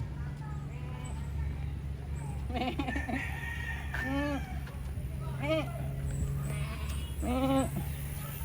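Several goat bleats, wavering and nasal, sound at intervals over a steady low hum, with faint background voices and other farm animal calls nearby, at Marikina River Park.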